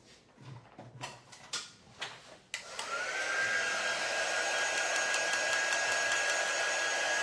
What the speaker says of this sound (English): let me get my little drying tool real quick